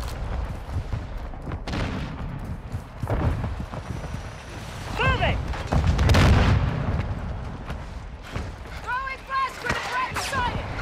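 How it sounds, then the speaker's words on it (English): Mortar strike in Call of Duty: Modern Warfare II, a run of booming blasts and gunfire bursts rolling through the game's battle din, with radio voice callouts over the top. "Hostile mortar strike in the area."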